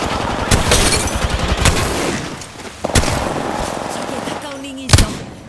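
Gunfire crackles through an Apex Legends Season 7 match: sharp, loud weapon shots punch out at intervals over a dense, continuous battle din, with a player talking over it.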